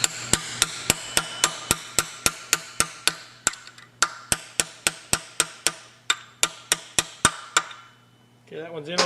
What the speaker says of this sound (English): Then pound that roll pin down through there.